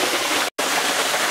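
Steady, loud rush of falling water from a waterfall, a dense broadband roar that cuts out for a split second near the middle before resuming unchanged.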